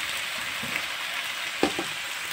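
A whole head of garlic frying in a pan gives off a steady, even sizzle, with a couple of soft clatters of utensils against the pan.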